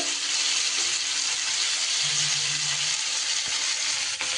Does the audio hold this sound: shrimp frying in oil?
yes